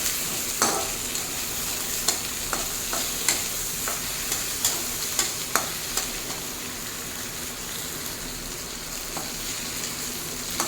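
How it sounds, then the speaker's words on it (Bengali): Bata fish frying in a pan with onion: a steady soft sizzle of hot oil with scattered light pops and spatters throughout, close and fairly quiet, no voices. "বাটা মাছ ভাজা অলমোস্ট ডান"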